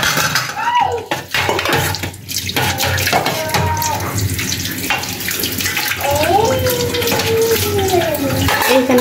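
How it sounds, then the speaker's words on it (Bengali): Dishes and plates are scrubbed and rinsed under continuously running tap water, with clinking and scraping of crockery, loud and close, while a voice talks over it. "থালবাটিগুলো হলো মেজে ফেলছি"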